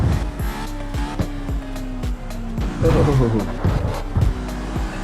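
A car in a racing video game drives with a revving engine and repeated gear-shift drops, and its tires squeal briefly midway. Speech runs over the sound.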